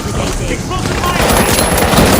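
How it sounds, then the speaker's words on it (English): Loud, dense explosive gunfire rattles continuously in The Finals, a fast stream of blasts and shots filling the whole moment of the match. "Explosive fire!"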